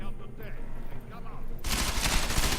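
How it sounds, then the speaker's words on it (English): Sustained automatic gunfire shreds bookshelves in Deus Ex: Mankind Divided, erupting suddenly after a quieter ambient stretch into loud, rapid, continuous bursts up close. "For some reason they're just trashing bookshelves with bullets"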